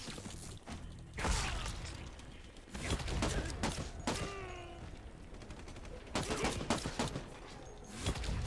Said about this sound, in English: the gunfire looks definitely like the weakest part here